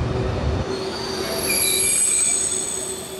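A South Korean high-speed bullet train running on its track, a loud, steady rumble with high metallic wheel squeal holding throughout, heard close and continuous with no voices.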